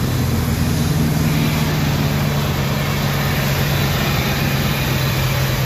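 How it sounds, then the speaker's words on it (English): An engine idles roughly just after starting up, running loud and close with a constant low rumble and a dense, unbroken mechanical roar. "this thing revs real high when it's been sitting a while and it starts up. It runs rough and it smooths out."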